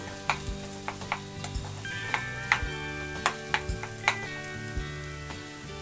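Bread pakoda mixture being stirred in a pan, with a soft sizzle underneath and repeated sharp clinks of the spoon against the pan at an irregular rhythm.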